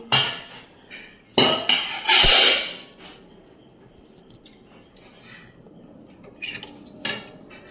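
A bowl of milk is set down on a stove top, a few sharp ceramic-and-metal clunks and clatters close by in a quiet kitchen, followed by softer scattered knocks.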